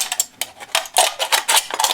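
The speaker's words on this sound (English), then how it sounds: "some scissors are actually proving pretty good at cutting the can up here" Scissors snip through a metal can in a quick series of crisp, crunchy metallic cuts, close and fairly loud, without talk.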